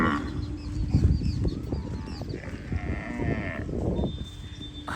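Kankrej cows on a farm give several low, drawn-out moos in close succession, near and fairly loud, with faint birds in the background.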